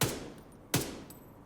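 Two sharp, loud SMG shots with broadband cracks ring out about three-quarters of a second apart in The Division 2, each trailing off in a brief decay, with no talking.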